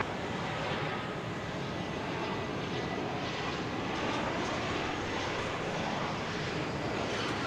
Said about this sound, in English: Southwest Flight 3561 from Albuquerque, New Mexico. A 737-700 arriving on runway 13 right at Dallas Love Field.